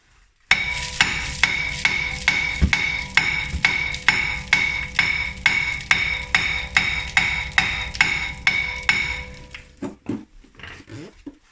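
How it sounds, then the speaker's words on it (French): Steady metallic hammer strikes on a seized rear brake part of a 2021 Mitsubishi Eclipse Cross ring out about twice per second, loud and close, around twenty blows in a row before stopping. "il faut dégager par un marteau"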